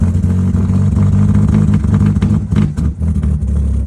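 A 2010 Audi A5 with the 2.0T engine idling rough: a steady, loud low-pitched engine drone with uneven pulsing throughout, close by and with no talk.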